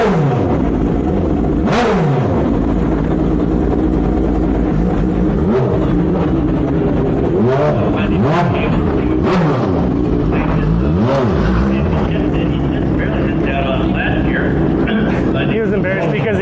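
At a vintage race event, an old race car engine revs loudly and pulls away in repeated rising surges, with other rumbling engines and talk around it.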